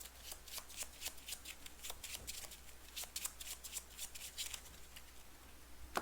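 A deck of Arkham Horror card game cards is shuffled quickly and repeatedly, producing crisp riffling bursts close by at a steady rhythm over a low background hum, with no voices.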